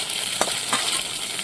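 Hilsa fish frying in oil in a pan, a close, continuous hissing sizzle broken by a couple of short stirring scrapes, with no talking.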